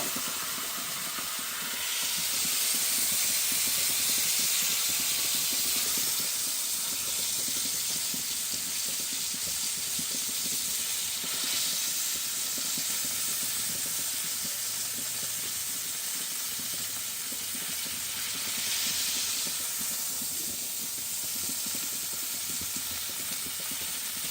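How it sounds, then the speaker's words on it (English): Meat sears in a hot pan, giving a loud, steady sizzling hiss that runs unbroken for a long stretch, with the intensity swelling and easing a few times. "I'm going to be searing it a lot, though."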